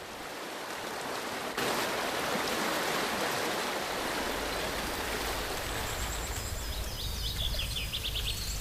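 The Agay waterfall near Sefrou rushes in a steady, dense roar of falling water, with small birds chirping faintly above it.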